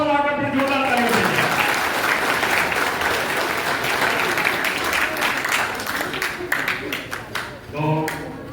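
An audience at a community gathering claps loudly for children in continuous applause, with a voice speaking at the start and again near the end.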